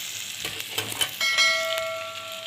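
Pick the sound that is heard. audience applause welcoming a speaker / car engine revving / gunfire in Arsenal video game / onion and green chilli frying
onion and green chilli frying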